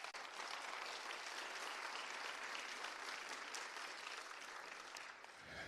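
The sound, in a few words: audience hand clap for DPD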